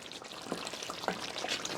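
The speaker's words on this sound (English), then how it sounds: "Add a little bit of water." Water pours and splashes into a pot of curry goat, blending with a steady sizzling, bubbling cooking noise.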